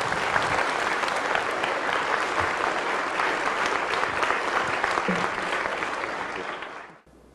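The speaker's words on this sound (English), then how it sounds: "let us give Wormelin warmest applause that's possible" Audience applause for a lecturer at a philosophy forum on democracy, a dense, steady wash of many hands clapping loudly for about seven seconds before cutting off abruptly.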